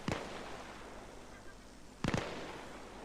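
Artillery fire lands in the military game Arma Reforger: two distant booms about two seconds apart over a quiet, faintly rumbling background.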